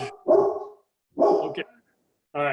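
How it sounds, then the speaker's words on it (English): A dog barks twice, loud and close, with brief pauses between, in a committee meeting setting, followed by a short voiced yelp; someone speaks briefly at the start. "that's the dog"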